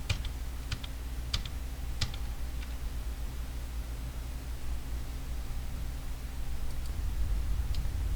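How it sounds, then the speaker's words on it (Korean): Ctrl+D pressed four times on a computer keyboard: a few sharp key clicks spaced through a quiet, hissy room, the clicks near and light with no talking. "컨트롤 키 누르고 D 4번 눌렀다 뗄게요."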